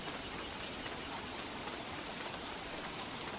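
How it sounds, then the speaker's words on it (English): Steady, dense rain falls in the Don't Starve video game, a continuous hiss at even loudness throughout with no voices over it. "Starting to worry about how rained on we're getting"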